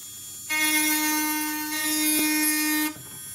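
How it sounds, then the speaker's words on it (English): A rotary tool with a burr spins fast, a steady high whine with a strong hum that starts, runs for a couple of seconds on metal, and cuts off, close and alone. "So get the burr going nice and fast"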